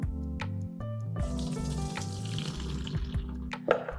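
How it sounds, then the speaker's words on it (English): Water drains from an opened can of jackfruit into a sink, a steady splashing trickle with clattering, close and fairly loud throughout. "All right, guys, let's bust this can open. I'm gonna drain off the water."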